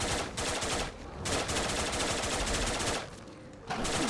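Heavy automatic gunfire in Fallout 4, loud sustained bursts that break off briefly twice before resuming, with no voices over the shooting.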